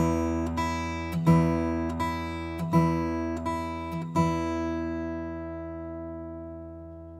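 Acoustic guitar plucked fingerstyle in a rolling harp-like pattern, thumb bass notes and middle-finger treble strings sounding together every beat or so, ringing out clearly and fading.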